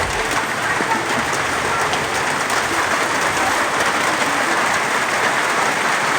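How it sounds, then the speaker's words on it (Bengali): Heavy rain pours down in a dense, steady hiss on nearby surfaces, loud and unbroken from start to finish with no voices. "ঝুমঝুমিয়ে বৃষ্টি কিন্তু চলেই আসছে"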